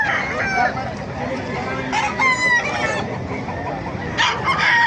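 Roosters crow repeatedly over a busy market of clucking chickens at Bocaue, Philippines, loud and close, with several birds calling at once.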